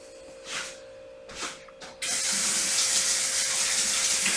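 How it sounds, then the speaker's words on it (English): Warm tap water running over a ceramic or glass plate. A few brief splashes come first, then a steady, loud, close hiss of water flowing from the faucet. "if it's a ceramic plate or a glass plate, run under some warm water first and dry it off"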